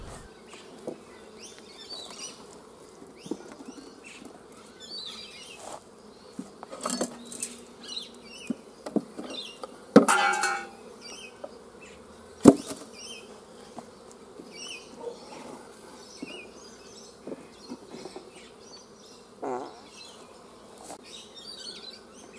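Honey bees buzzing around opened hives at an apiary during end-of-autumn checks, an irregular close hum of individual bees flying past, with a few louder passes and soft knocks of hive handling.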